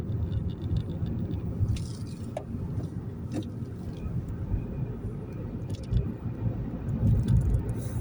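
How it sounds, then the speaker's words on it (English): A car being driven on a smooth ride, heard from inside as a steady low engine and road rumble with small swells, plus a few faint clicks and knocks from within the cabin. "this car's a smooth ride, but you just got to play around with the gears a bit"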